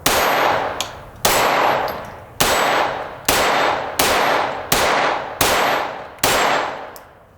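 A Glock 44 .22LR pistol fires at steel targets: seven loud, close shots at a steady pace of about one per second, each followed by a ringing clang of lead striking metal that decays before the next round.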